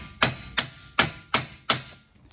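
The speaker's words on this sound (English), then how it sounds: "and then just give it a little tap." A soft-faced hammer taps a suspension part during a long travel rear suspension install on a Yamaha YXZ: five crisp, evenly spaced knocks, close and moderately loud, with no talking.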